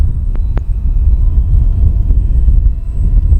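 An Arrows RC Husky model airplane on its maiden flight, crawling slowly into a headwind, gives a steady low engine drone mixed with wind rumble, continuous and fairly loud with no talk.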